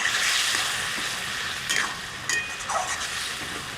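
Fried potatoes tipped into a spice paste in a hot pan sizzle and hiss continuously, with a few sweeping stirring scrapes and clinks close by, no voices.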